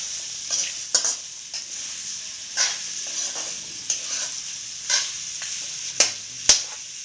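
Onions fry with chili paste in a pan while pork cooks, a steady hiss broken by repeated stirring scrapes and clacks at a close, even pace.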